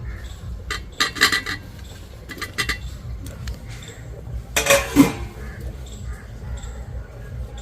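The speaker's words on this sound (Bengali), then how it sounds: "ভেজে রাখা বাকি সবজিগুলো দিয়ে দিচ্ছি।" Fried vegetables are tipped into a pot of bhoger khichuri, with close clinks and clatters of a utensil against the pot in short bursts over a low background rumble.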